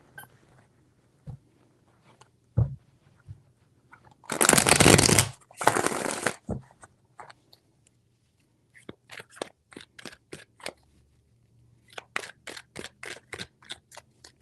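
Tarot cards are shuffled in two loud riffling bursts, followed by a run of quick, crisp taps and flicks as the deck is handled.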